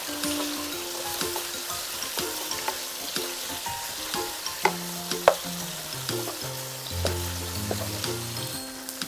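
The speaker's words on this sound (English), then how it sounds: "We saute until it's slightly cooked." Lemongrass and kaffir lime leaf sauté in a pan with a steady, bright sizzle and occasional scraping stirs, set under soft tonal background music.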